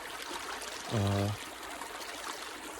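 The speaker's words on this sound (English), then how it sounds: "The water's really flowing through there really, really well." Water from a creek flows steadily through a channel cleared of underbrush, a continuous broadband rush close to the microphone, with a brief low tonal hum in the middle.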